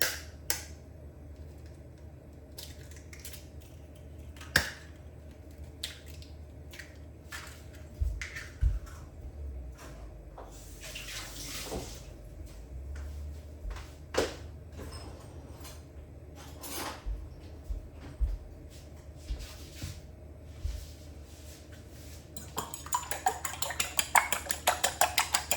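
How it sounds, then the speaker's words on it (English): Egg being beaten in a bowl while cooking egg with broccoli, bok choi and vermicelli: a long run of light, irregular clinks and taps of utensil on dish, close and moderately loud, growing busier and denser toward the end. "So we will beat the egg."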